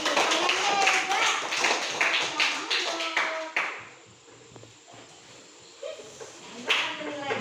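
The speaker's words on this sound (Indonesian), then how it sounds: "Tepuk tangan sekali lagi." A classroom of children claps in rhythmic bursts of sharp, rapid hand claps that fade into a quieter stretch, and then a brief clap returns alongside voices.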